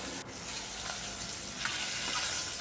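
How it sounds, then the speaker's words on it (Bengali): Rohu fish pieces rubbed with salt and turmeric frying in hot oil, a fairly quiet, continuous crackling hiss with small bursts of spatter, heard alone. "তেলটা গরম হয়ে যাওয়ার পর ওই তেলের মধ্যে লবণ হলুদ দিয়ে মেখে রাখা রুই মাছগুলো ভেজে নিচ্ছি।"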